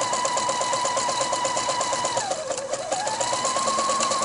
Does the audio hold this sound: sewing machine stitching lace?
yes